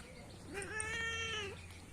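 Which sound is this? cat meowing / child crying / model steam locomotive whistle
cat meowing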